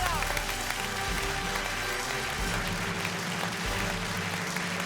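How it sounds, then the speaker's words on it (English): A large audience at a music competition semifinal applauds loudly and continuously, a dense wash of clapping that fills the whole moment without letting up. "big applause for Ella."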